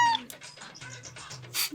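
A man imitates a cat with his voice, giving a few short, close meow-like cries over about two seconds, the last sounding higher and brighter.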